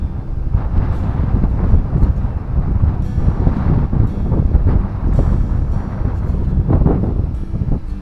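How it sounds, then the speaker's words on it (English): Strong wind buffets the microphone in continuous gusty rumbles on a boat fishing the River Humber, loud and close, with a faint wash of water and boat noise beneath. "it's a little windy and the rod's bouncing a bit"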